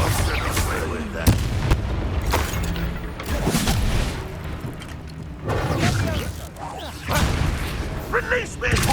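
Confringo explosion spell blasts in Hogwarts Legacy, with repeated booming impacts at irregular intervals across a busy combat soundscape. A voice speaks between the blasts.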